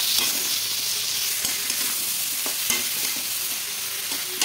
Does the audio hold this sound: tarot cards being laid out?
no